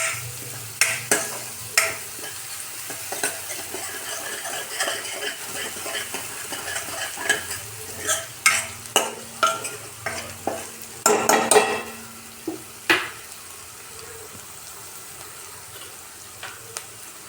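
Green chilies and raw garlic fry into a paste in a pan, a low sizzle under frequent sharp taps and scrapes of a spoon against the metal, closely miked and irregular in rhythm.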